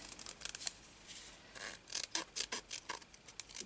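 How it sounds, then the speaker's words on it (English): Scissors snip repeatedly while cutting out a paper craft leaf, a string of quiet, close, crisp cuts with short pauses between strokes. "I've got the scissors and I'm going to, actually I've got to cut it out first."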